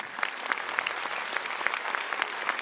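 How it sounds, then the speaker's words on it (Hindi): Continuous crowd clapping at a business-plan seminar, many hands blending into an even wash of claps with periodic louder accents, steady and fairly close throughout. "जब तक ताली नहीं बजेगी मैं आगे बढ़ूंगा।"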